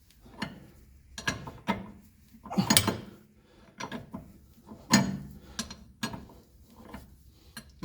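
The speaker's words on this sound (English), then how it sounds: "What we want to do now is remove the 17mm nut and separate the spindle from the upper control arm." A ratchet works a 17mm nut off the spindle and upper control arm of a Mercedes W116 300SD. Close bursts of metallic clicking come with clanks and tool knocks in uneven spurts, and no one speaks.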